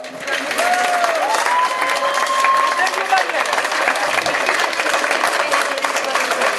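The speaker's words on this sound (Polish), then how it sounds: "Jeszcze raz wielkie brawa." Audience applause at a ceremony handing out start numbers for the LGP Wisła 2013 event, broad, dense and steady clapping for the whole stretch, with voices and cheers mixed into it.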